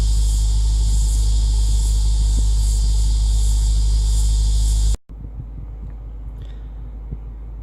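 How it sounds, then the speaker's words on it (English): A 2019 Lexus GS F 10th Anniversary V8 idles with a deep, steady, relaxed rumble up close for about five seconds, then cuts abruptly to a much quieter, muffled engine hum. "what's quite impressive is even this lovely relaxed rumble really does give it that real"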